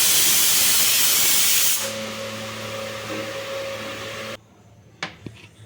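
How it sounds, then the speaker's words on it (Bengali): A pressure cooker boiling jackfruit seeds lets off a loud, steady steam hiss that drops to a quieter whistling tone, then cuts off, leaving a few faint clicks and knocks. "এখানে প্রেসার কুকারে আমি 3টে সিটি দিয়ে নিচ্ছি।"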